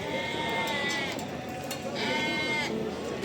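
Goats bleating at a livestock market, several overlapping bleats from nearby animals amid crowd noise and people talking in the background.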